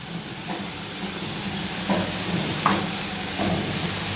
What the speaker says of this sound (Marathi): आणि छान परतून घ्यायचं आहे